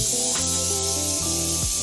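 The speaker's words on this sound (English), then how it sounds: "a lot of people use airbrushes to spray varnish and spray paint down" Airbrush spraying paint, a steady, close, loud hiss running throughout with tonal music layered over it.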